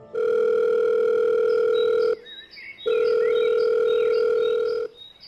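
Continuous telephone dial tone, loud and steady, cutting out briefly and resuming, set as a phone-call effect in a Bengali horror-detective audio story; a call to a police station is being placed, with no talk heard over the tone.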